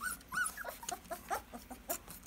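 A puppy whimpers close by, giving a quick series of thin, high, wavering whines and yips that are soft but clear.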